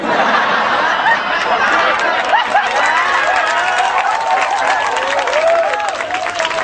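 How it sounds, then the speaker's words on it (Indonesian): A seated audience at an Islamic sermon (pengajian) by K.H. Anwar Zahid breaks into dense, sustained applause mixed with crowd chatter and laughter, loud and close throughout. "Aku tahu dia ikut tepuk tangan kok."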